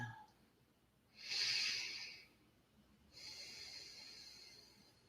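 Two slow, deep breaths drawn during a seated meditation, each a soft airy rush lasting about a second, close and quiet, with a pause between them.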